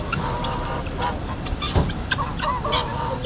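Chickens and a rooster cluck and call among the steady bustle of a busy outdoor poultry market in Łomża, Poland, with scattered bird calls rising over the crowd noise for a few seconds.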